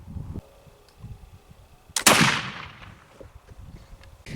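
A single sharp, loud black powder gunshot, comparing Swiss and Mesquite powder, cracks outdoors with a booming tail that decays over about two seconds, amid faint background rustling.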